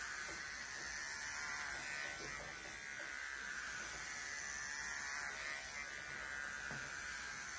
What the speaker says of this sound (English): Why are you shaving your head